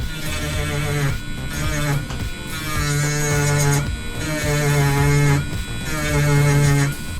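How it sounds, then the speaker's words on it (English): A small Dremel rotary tool grinds a nub off a rifle barrel with a loud, close, buzzing whine. It runs in several bursts with brief dips in between. "but I'm going to use this little Dremel"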